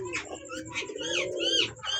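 Pigeons coo repeatedly in a loft of paired birds kept for sale, including Danish, satin, racer and Bombay breeds; the soft, throaty calls overlap continuously at close range with chirpy overtones and no speech.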